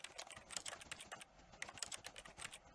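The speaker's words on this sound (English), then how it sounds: "Keyboard is going off when I'm clicking the buttons." Keyboard typing in the video game The Stanley Parable comes through as a quiet, rapid run of uneven clicks and taps with no voice over them.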